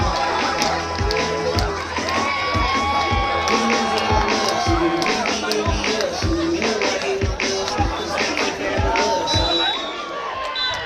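Football fans cheer, shout and whoop loudly and steadily at the end of a regional cup final between Yalkyn-Kukmor and Yashlek, a dense crowd roar with rhythmic bursts that runs throughout.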